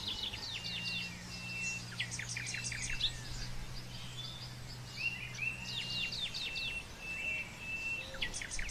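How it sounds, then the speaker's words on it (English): Forest birds sing in overlapping chirps, trills and clear whistled notes, fairly close and lively throughout, over a steady low hum. "The beautiful birds whose songs weave the fabric of the forest."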